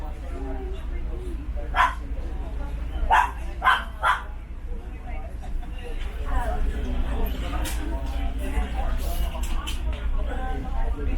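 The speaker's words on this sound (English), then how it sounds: "A dog then came by looking for a place to pee." A street dog barks in short, sharp bursts, several times in the first few seconds and then more loosely, over steady traffic rumble and people talking on a busy road in the Philippines.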